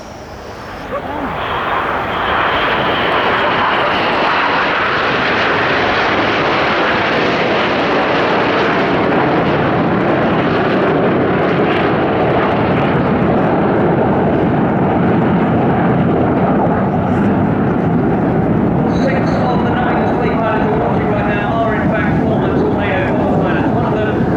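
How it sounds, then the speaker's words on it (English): A Tornado bomber jet flies past at the Bournemouth air show, a loud, continuous roaring engine rush that swells in within the first two seconds and holds steady and powerful throughout. "So now in from the right, celebrating the Tornado Bomber Force. This is Tornado!"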